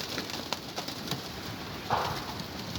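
Soft coos from Bango breed pigeons rise once midway through a quiet background of light rustling and faint clicks.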